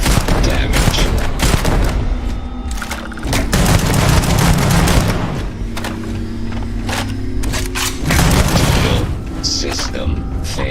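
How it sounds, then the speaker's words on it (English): Sustained gunfire in the Starfield video game, dense bursts and booming shots filling the space loudly throughout, with game tones and effects layered in and a voice speaking over the barrage. "I am opening fire."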